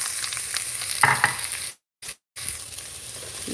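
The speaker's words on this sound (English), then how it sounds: "I'm gonna throw onions in there." Onions fry on a stove in a close, steady hiss of sizzling fat, with a scraping stir and a brief cutout of near silence midway before the sizzle resumes.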